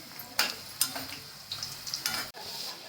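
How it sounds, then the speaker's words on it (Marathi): Churma laddu dough balls of wheat flour frying in oil on low heat, with soft sizzling crackle and a few sharp stirring or utensil clicks against the pan. "लालसर कलर तो होईपर्यंत चांगलं तळून घ्यायचा मंदाचेवरच तळायचं ते"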